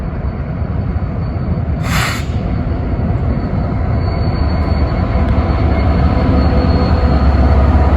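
An empty BNSF coal train rolls past close by in a loud, steady rumble of wagons, with a brief high squeal near the start.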